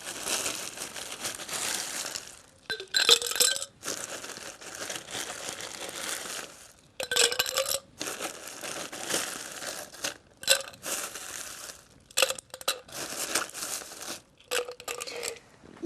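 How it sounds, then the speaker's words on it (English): Ice goes into a tall cocktail glass for a Planter's Punch: repeated bursts of crunching, crackling clatter as cubes tumble and settle, loud and close, with no talking. "So I'm going to add the ice to the glass now."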